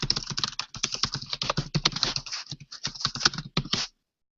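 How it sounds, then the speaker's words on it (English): Rapid, irregular keystrokes on a computer keyboard during a lecture, close and fairly loud, with short pauses between bursts of typing and no talking. "I'll just try to talk while I'm typing."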